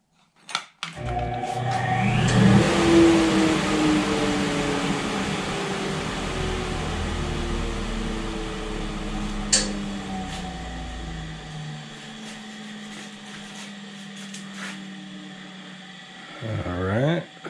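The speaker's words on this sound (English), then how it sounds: "Gonna push it through the joiner and the noise happens." Neck veneer strips for a Route 66 Strat guitar fed through a jointer: a loud, sustained machine roar with whining tones builds, runs steadily, then spins down, ending with a short clatter.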